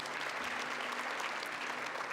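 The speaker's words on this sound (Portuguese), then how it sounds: "Pode aplaudir a palavra do Senhor." Church congregation applauding during a Catholic Mass for the Exaltation of the Holy Cross, a steady, fairly quiet wash of clapping that fills the short moment without any voices.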